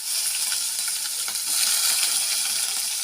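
Onions sizzling in hot oil with mustard seeds for a raw banana curry, a loud, steady hiss and crackle of frying, close up and continuous with no talking.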